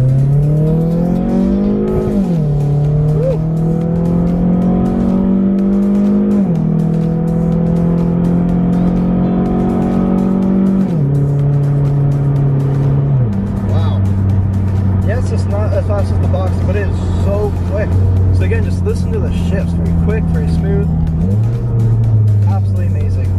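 A second-generation sports car accelerates hard on the road, its engine climbing in pitch through repeated gear changes and dropping at each shift. Loud and close, heard from inside the car, with a driver talking over parts of it.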